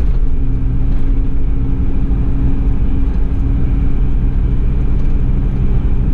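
A 1991 Toyota Land Cruiser PZJ70 diesel 4x4 drives over small bumps on town streets, giving off a continuous loud low engine drone and road rumble from inside the cab.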